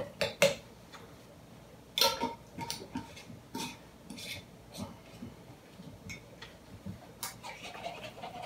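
A spoon clinks and scrapes against a pot while broth is stirred together on a home stove, sharp metallic taps coming irregularly at close range over a quiet background.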